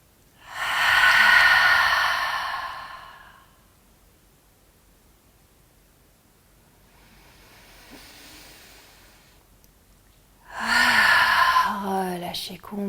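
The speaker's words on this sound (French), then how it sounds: "Et on va expirer par la bouche avec le son." During a gentle yoga session for menstrual pain relief, two long audible exhalations through the mouth rush out, breathy and close, separated by a quiet stretch with a soft breath in between.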